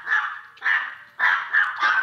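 A black dog loose from its leash barks in four or five loud, close bursts separated by short pauses, with no other sounds or voices.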